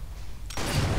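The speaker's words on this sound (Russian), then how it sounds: "Хороший взрыв такой." In the video game Sniper Elite 4, a sudden loud explosion booms in after a quiet stretch, followed by a heavy rumbling roar that sustains to the end.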